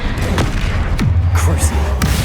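Spell blasts go off in Hogwarts Legacy combat as loud booms and heavy thuds. Several impacts land in quick succession, and voices can be heard over them.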